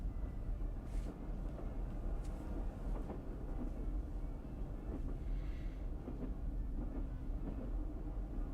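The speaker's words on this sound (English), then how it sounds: "It's the sound of a moving train." Steady low rumble of a moving train, continuous and fairly quiet, with faint rattles and clicks rising now and then over the drone.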